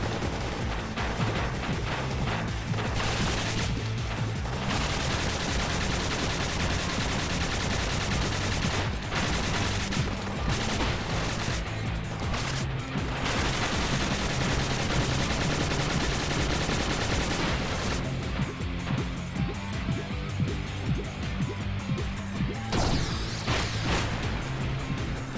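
Missiles and weapons firing in Spark the Electric Jester 3, a dense, continuous barrage of loud blasts and crackling explosions with game music underneath, never letting up.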